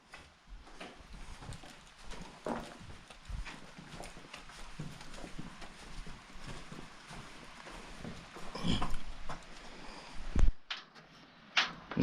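Hooves clop on hard ground as horses walk past, an irregular stream of steps with rustling and a few thumps, fairly close.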